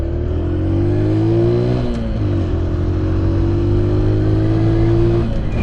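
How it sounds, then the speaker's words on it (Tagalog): A fast car roars past close by, its loud engine drone shifting pitch midway as it speeds on, with steady road noise and no talking. "May kotse lang mabilis."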